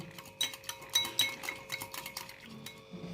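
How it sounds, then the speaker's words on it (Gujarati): A spoon stirs sattu powder sherbet in a glass, giving a run of bright clinks and taps against the sides, loud at first and then lighter and more scattered, with no voices. "હવે આને આપણે બરાબર મિક્સ કરી લઈશું"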